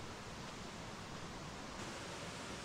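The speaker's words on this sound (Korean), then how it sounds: "계곡 물소리가 시원하게 울려 퍼지며 마무리에 깊은 여운을 남기네요." Valley stream water rushes steadily on a forest trail near a stepping-stone crossing on Yeonin Mountain, a faint, even broadband flow with no voices.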